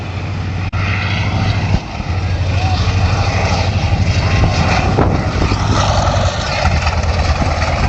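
A low-flying propeller airplane drones at an air show over the ocean at Cocoa Beach, its engine a steady hum heard from outdoors at a distance. Wind and crowd noise sit underneath, and people talk nearby.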